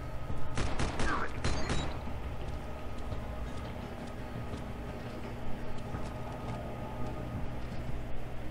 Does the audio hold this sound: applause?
no